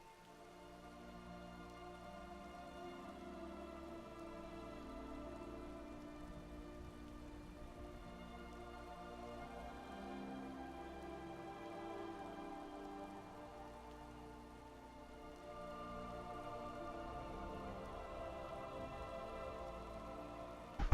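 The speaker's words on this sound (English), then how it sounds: "I must admit, I'm not particularly fond of the rain." Steady rain falls in the video game Skyrim, a continuous even hiss of drops on surfaces that holds at moderate level for the whole stretch, with a faint musical drone beneath and no voices.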